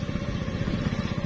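A motorcycle engine running on a rough, potholed rural road, a steady close mid-pitched putter with a slight rhythmic chug, fairly loud and alone.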